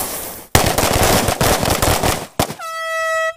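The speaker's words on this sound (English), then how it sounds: "They're out at the range, building camaraderie. They're sharing some teamwork and shooting some targets." Tactical operators fire at targets on a shooting range, producing a loud, dense burst of rapid shots followed by one more sharp report and a steady ringing tone.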